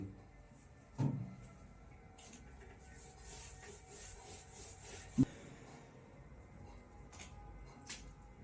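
Board being wiped clean during a time-and-work maths lesson, a soft continuous rubbing with a couple of sharper knocks, fairly quiet and close.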